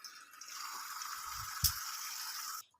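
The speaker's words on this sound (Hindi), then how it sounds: "जामुन को हम अच्छे से धो लेंगे" Water swishes and trickles in a large tray as jamun berries are washed by hand, a soft continuous splashing with a few low sloshes, close and quiet, ending abruptly.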